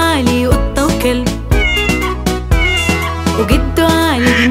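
A sung cat meow in an Arabic children's song, repeated several times in a melodic pattern over loud bright music.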